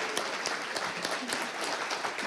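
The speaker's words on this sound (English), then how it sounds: "Let's give them all a round of applause." Audience applause at a council gathering, a steady wash of many hands clapping at moderate volume, sustained without a break.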